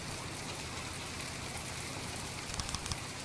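Rain falling in the game From The Depths, a dense continuous patter across the whole clip with a few louder individual drops near the end; no one speaks.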